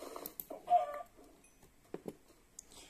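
Chicken clucking in the Minecraft video game, a few short, soft clucks spaced irregularly with quiet gaps between them.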